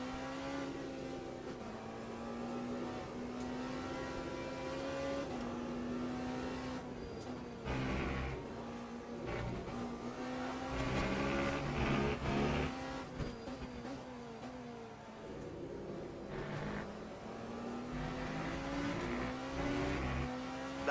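A Le Mans Ultimate race car engine in the video game drones and revs steadily for a long stretch, rising and falling with throttle changes and gear shifts, a continuous mechanical whine that stays moderately loud throughout.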